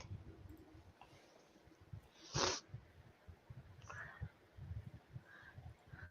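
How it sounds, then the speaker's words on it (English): A person gives a single sharp, brief sniff, clearly louder than the faint steady background noise, with no one talking. "You got the sniffles"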